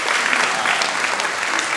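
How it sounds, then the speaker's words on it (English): Audience applause at a blockchain conference in Seattle, a steady, dense burst of clapping from a crowd that fills the room without pause, with no speech over it. "But please give Mark Yusko a round of applause."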